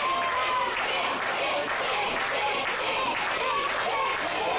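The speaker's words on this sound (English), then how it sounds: "Oh, the crowd's getting behind him" Wrestling crowd at a Neo Wrestling hardcore holiday show cheers and claps steadily throughout, a dense wash of applause and shouts, with a commentator's voice running over it.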